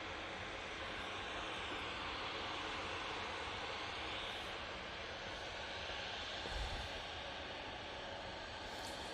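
A Helvetic Embraer E2 jet departing Manchester Airport for Zurich makes a broad, steady engine roar, distant and fairly faint, holding constant throughout.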